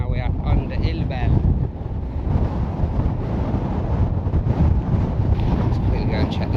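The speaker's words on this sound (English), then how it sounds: "Get out of the wind." Strong wind buffets the microphone on a wet, windy mountain walk around the Kentmere horseshoe, a steady close roar that rises and falls in gusts and fills the whole clip.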